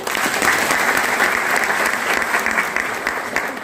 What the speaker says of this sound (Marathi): यासाठी थोड्याशा टाळ्या झाल्या पाहिजे